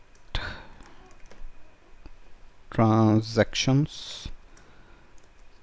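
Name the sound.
typing SQL code on a computer keyboard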